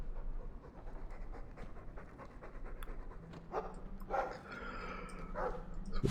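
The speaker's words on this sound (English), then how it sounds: "Happy bark." Dog panting happily in Dragon Age II, rhythmic breathy huffs over steady game ambience, with a few brief yips and whimper-like sounds late in the clip.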